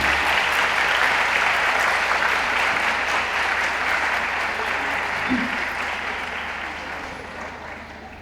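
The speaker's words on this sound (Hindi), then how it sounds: "आपकी भरपूर तालियों में" Loud, dense applause from the audience at an Urdu poetry mushaira in a university hall, a continuous wall of clapping that gradually fades toward the end.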